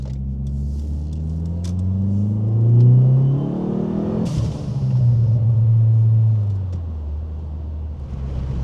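A Dodge Neon SRT-4's turbocharged engine pulls hard from inside the moving car, its drone climbing in pitch through a gear, dropping sharply at a shift, then climbing again, loud and continuous with a low rumble underneath.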